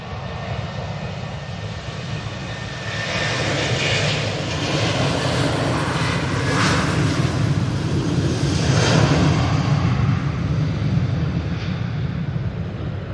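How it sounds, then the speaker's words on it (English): Ryanair Boeing 737-800 jet departing Manchester Airport on a windy day, a steady broad engine roar that swells in the middle and holds loud throughout, with wind noise underneath and no talk. "that Ryanair 737-800 is off to Londonderry"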